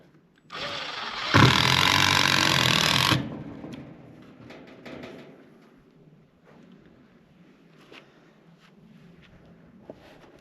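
A loud, harsh whirring burst of a power drill driving screws runs for a couple of seconds, then fades into quieter rattling and faint handling noises.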